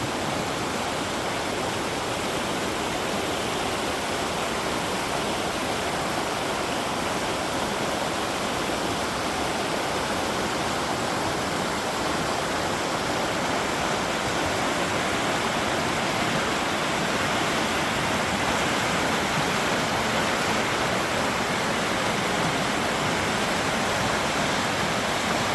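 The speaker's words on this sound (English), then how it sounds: "enjoy the river sounds." A flowing river at dusk seen from the bank beside an oak tree, a constant, full rush of moving water that stays steady and close throughout with no voices.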